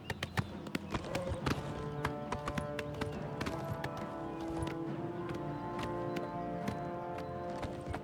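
A horse gallops in The Elder Scrolls IV: Oblivion, its hooves clattering in quick, uneven clip-clop beats at moderate volume over a soft, tonal game backdrop.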